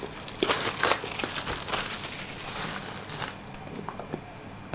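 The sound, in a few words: opening OnePlus 8 Pro box, packaging crinkling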